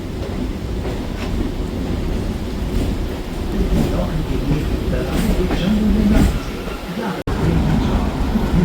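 A local train departs a platform at Sealdah station, its rumble and rolling wheel noise loud and continuous amid a busy station crowd, with voices in the background.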